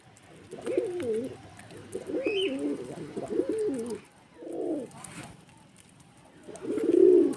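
Pigeons coo nearby in several throaty, rolling bursts separated by short pauses, the last one loudest and closest.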